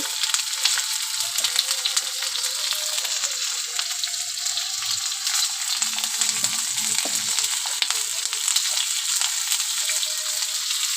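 Steady close sizzle of spices frying in a hot pan, a dense crackling hiss that continues evenly throughout with no voices.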